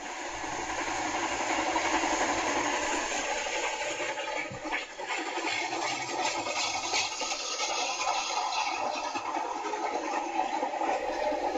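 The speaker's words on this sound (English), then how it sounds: "the passengers reboarded, and the train started off again" A passenger train heading back toward St. Louis runs along the rails with a steady rumbling roar and rattling wheel noise, close and continuous throughout.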